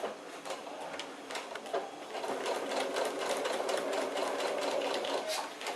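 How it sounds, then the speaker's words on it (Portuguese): A sewing machine stitches thick grosgrain ribbon with a rapid, close mechanical clatter that starts slower and then settles into a steady run. "eu vou passar a costura, eu só prendi o comecinho aqui, porque como é fita de gorgurão, é um pouquinho mais grossa"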